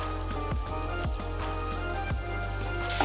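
Chopped onions sizzle in mustard oil in a pan, a steady close hiss with a low electrical hum beneath and a few soft thumps as the pieces are stirred, no voices present.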